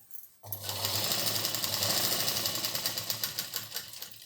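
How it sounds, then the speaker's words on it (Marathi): A sewing machine stitches a petticoat hem. It starts abruptly and runs as a steady, close, rapid whirring and clattering for several seconds, with no talking. "थोडाच शिलाई मारताना थांबवा अशी पूर्ण परकडला शिलाई सारखी मारत जायची"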